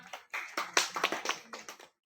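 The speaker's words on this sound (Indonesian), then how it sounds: "tepuk tangan buat Cynthia." Scattered hand clapping from a small group of pupils, cheering on a child during an outdoor school PE athletics lesson on walking, running and jumping; uneven, fairly close bursts of claps with no talking.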